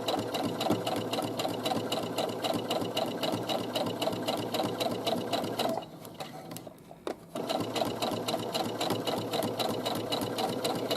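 A sewing machine stitches a side seam in a steady, continuous mechanical whir that runs close and even, briefly dropping away near the middle before resuming at the same pace.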